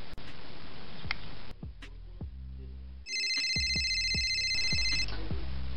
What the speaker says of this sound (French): Ah, il y a le téléphone qui sonne.